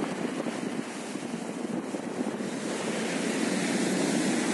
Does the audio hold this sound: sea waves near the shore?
yes